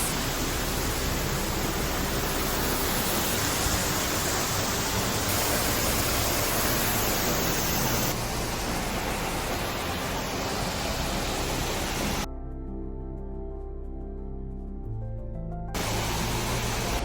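Middle North Falls roaring as a steady, loud, dense wash of falling water that fills the whole stretch, briefly dropping in the middle before returning, with no voices.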